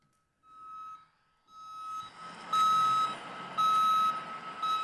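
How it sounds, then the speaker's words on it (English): Heavy construction equipment backup alarms play from a recording, a repeating series of steady, loud electronic beeps with pauses between them, growing stronger over a rumbling background. "the backup alarms from their heavy equipment"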